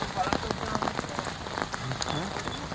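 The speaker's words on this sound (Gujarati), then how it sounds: "વરસાદ વધતો જાય છે અને પાણી વધતું જાય છે" Rain falling steadily with distinct drops pattering on nearby surfaces, a busy crackling patter at moderate level with faint background voices underneath.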